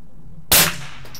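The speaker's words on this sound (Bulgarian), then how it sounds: "Ето ти гонг. Ето имаме удар." A single sharp, loud crack of a .22 LR bullet from a CZ 511 rifle striking a steel gong at 300 metres strikes after a short silence, with a brief ringing tail.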